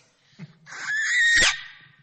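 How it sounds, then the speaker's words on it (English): A person screams loudly into a microphone during sound check for a musical Shabbat service, one sustained shrill cry that peaks and cuts off abruptly, with faint low rumble before and after. "I didn't mean for you to scream into it."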